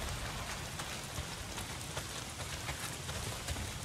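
Steady heavy rain pours down in the Days Gone video game, a dense, even hiss of drops on surfaces that continues unbroken at close range with no voices.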